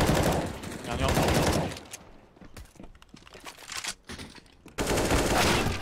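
Automatic gunfire in the game CS:GO, with long dense bursts of rapid shots at the start and end and scattered shots and clatter in between, loud and close, with people talking over it.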